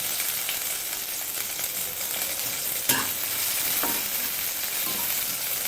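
Panch phoron, chopped ginger and chopped green chili fry in hot oil, giving a bright, steady sizzle with light scraping from stirring and a sharp metallic clink near the middle.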